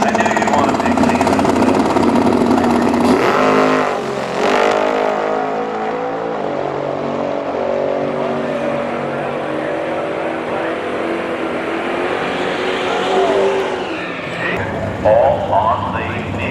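A car and a superbike rev hard in a drag race, engine roars rising and fading across the stretch, loud and continuous, with voices briefly over them.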